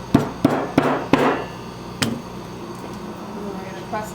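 A wooden wedge is hammered into the top of a hickory tool handle with four quick, ringing strikes, then a fifth after a pause, close by, followed by quieter handling noise.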